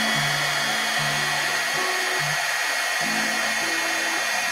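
Heat embossing tool blowing hot air to melt clear embossing powder on a stamped paper craft project, a steady, loud, close whirring hiss with a shifting low motor hum throughout.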